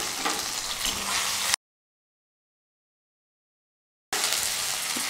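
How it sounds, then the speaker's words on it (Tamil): Onions frying in a pan for a quick breakfast dish, giving a steady, close sizzle that cuts out to silence in the middle and then returns unchanged. "இப்போ வெங்காயம் போட்டுக்கலாம்."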